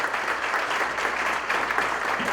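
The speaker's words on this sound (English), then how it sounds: "Let's give them a big round of applause, a big one." A crowd at a community event applauds in a steady, fairly loud wash of clapping that runs unbroken through the brief moment with no voice over it.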